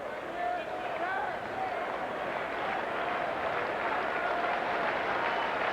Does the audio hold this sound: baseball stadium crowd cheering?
yes